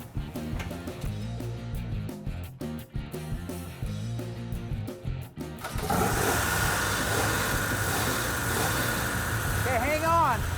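Hemi Challenger engine starting up, a dense broadband rumble that kicks in about midway and then holds a steady loud idle, preceded by mixed mechanical noise and clatter.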